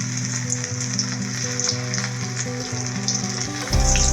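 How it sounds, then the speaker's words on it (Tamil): Potato bites deep-frying in oil over a medium flame give a dense, even sizzle with steady bubbling, close up and unbroken, swelling louder near the end. "மீடியம் சிம்லேயே வச்சு நம்ம இதை பொரிச்சு எடுக்கணும்."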